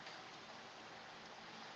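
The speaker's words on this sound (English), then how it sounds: "And it's raining right now." Steady rain falling outside a greenhouse, an even, soft hiss of drops with no breaks and no voices, faint and continuous throughout.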